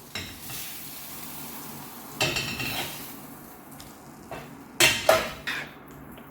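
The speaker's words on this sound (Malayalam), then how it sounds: "അത് നമ്മൾ നമ്മുടെ മഷ്റൂമിൻ്റെ ഈ വൈറ്റ് സോസിലേക്കൊന്ന് ഇട്ട് മിക്സ് മിക്സാക്കി എടുക്കണം" Grilled chicken stirred into a mushroom white sauce in a pan, a soft sizzle under sharp clinks and scrapes of a utensil against the pan, with a few louder knocks.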